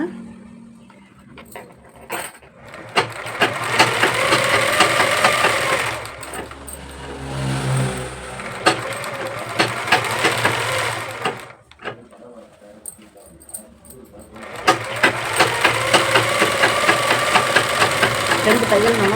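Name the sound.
overlock sewing machine stitching a blouse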